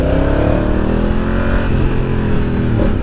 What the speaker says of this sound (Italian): quando scalate fa la doppietta ed è veramente bello. Provo a farvela sentire qua